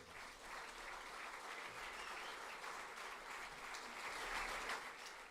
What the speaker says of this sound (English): a round of applause for His Excellency Turki Al-Sheikh